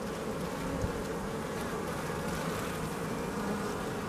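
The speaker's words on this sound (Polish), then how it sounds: "za matką w klatce powędrowały pszczoły" Honeybees swarm around a caged queen inside a hive, a dense, continuous buzzing drone that stays close and even throughout, with no voices.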